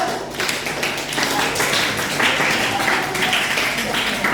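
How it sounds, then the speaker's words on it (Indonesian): Students clapping at a school debate on the pros and cons of the internet, dense close applause running throughout with voices mixed in. "Oke, tepuk tangan untuk kita semua."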